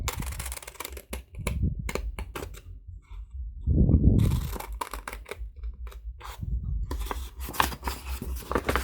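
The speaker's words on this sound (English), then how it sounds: "I'm going to cut out all these pieces around the Christmas tree" Scissors snip through paper Christmas tree craft pieces in repeated short, crisp cuts, with rustling paper being moved and handled between snips, close by with no talking.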